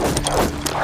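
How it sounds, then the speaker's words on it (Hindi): A horse gallops hard as a sound effect in an audio drama, with dense, continuous hoofbeats mixed with rushing noise. The sound is loud and fills the whole short stretch, and no one speaks over it. "जनरल रूट का घोड़ा हवा से बातें करता हुआ बिना थके बिना रुके दौड़ता ही जा रहा था।"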